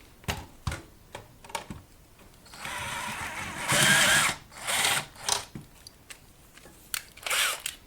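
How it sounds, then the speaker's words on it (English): Step drill cutting a hole, a steady whirring burst that grows loud for a couple of seconds among sharp clicks and handling knocks; no talking. "My favorite step drill."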